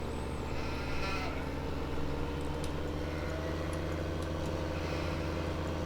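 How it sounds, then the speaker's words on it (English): Sheep bleat across a Farming Simulator 2015 countryside on the Tunxdorf map, a herd heard at moderate distance over a steady vehicle engine drone, with no talking. "There's another herd of sheep over here."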